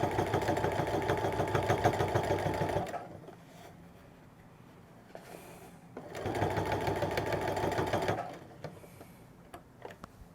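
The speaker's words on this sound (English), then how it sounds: "we are sewing part of that French seam down" A sewing machine stitches down a French seam on a simple A-line skirt lining, running in two steady, rapid bursts of a few seconds each with a quiet pause between them.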